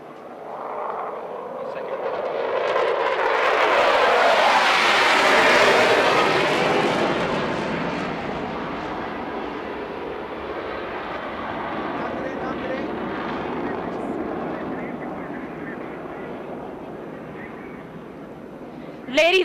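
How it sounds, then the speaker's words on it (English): A Pakistan Air Force fighter jet roars past during an Independence Day flypast, swelling to a loud peak then easing into a sustained distant rumble while an announcer speaks over it. "as the third fighter jet races towards the venue, its thunderous approach echoes unwavering resolve"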